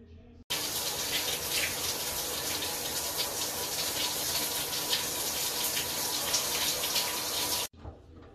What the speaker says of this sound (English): Let me hop in the shower